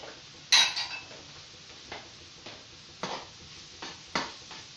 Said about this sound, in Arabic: عاد نزيد ليه هاد الشرائح ديال ديال الدجاج